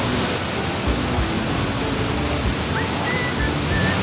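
Sambuyeon waterfall in Cheorwon, Gangwon, on a clear autumn day, a steady broadband roar of falling water close by, continuous and unbroken, with faint birdlike chirps above it.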